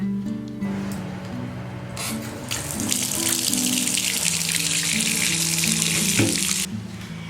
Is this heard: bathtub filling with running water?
yes